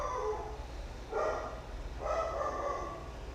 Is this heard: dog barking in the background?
yes